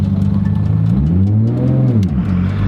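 A Nissan Skyline R32 GTR engine revs up and settles while driving, a loud, close mid-pitched drone rising and falling over a couple of seconds.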